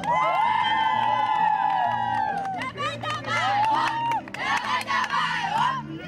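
Spectators at a half marathon cheering and shouting encouragement to runners, a loud continuous crowd roar with whoops and raised voices close by.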